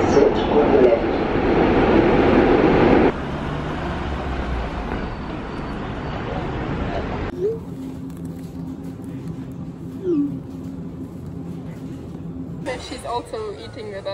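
Ride aboard a German city tram after a stop announcement for the exhibition centre, with a steady loud rolling rumble that drops to a quieter hum as the car slows, plus faint squeals and brief clatter near the end.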